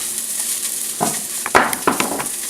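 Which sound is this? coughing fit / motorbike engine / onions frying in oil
onions frying in oil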